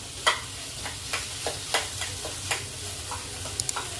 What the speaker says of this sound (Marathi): हे बटाटे आपल्याला शक्य होईल तितकं मॅश करून घ्यायचं आहे